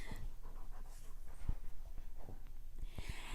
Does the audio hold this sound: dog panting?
yes